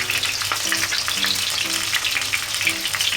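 Shiso, ham and cheese spring rolls pan-fry in oil with a steady, dense crackling sizzle, close and loud throughout, with faint low clatter beneath and no voices.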